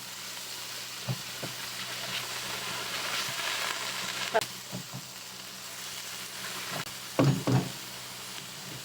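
Keema (minced meat) frying in a pan with a steady low sizzle and hiss while a spoon stirs it, giving a few sharp clinks and scrapes, with some talking in the background.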